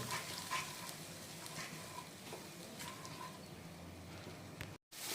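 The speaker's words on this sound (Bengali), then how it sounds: "এটা দেওয়ার পর মশলাটা কিন্তু আমাদের ভালো করে কষিয়ে নিতে হবে একটু সময় ধরে।" Spice paste for a tuna fish curry frying and being stirred in a pan, a steady soft sizzle with occasional scraping strokes, fairly quiet and without talking.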